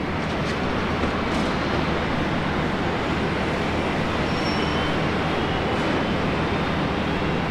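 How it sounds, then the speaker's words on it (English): Boeing 777 airliner passing at Brisbane Airport, a steady, loud broadband rumble and roar holding throughout without pause, with no voices. "Big 777 coming through."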